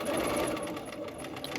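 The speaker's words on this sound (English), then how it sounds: "let's just give it one more stitch and back stitch" A sewing machine runs steadily as it stitches and back stitches fabric, a close, even mechanical whir lasting the whole short moment.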